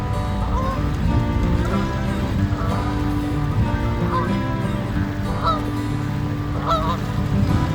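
Canada geese honk repeatedly in loud, overlapping calls over a steady low engine rumble, with several bursts rising above the drone.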